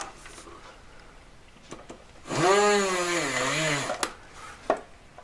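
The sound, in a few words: drill boring a hole for a ring's centre stone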